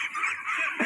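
Ducks in a pen on an Indonesian duck farm, a steady nasal honking and quacking chorus from a flock, fairly close and continuous with no talk.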